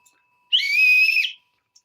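One shrill, steady whistle blast lasting under a second, loud and close, with silence before and after.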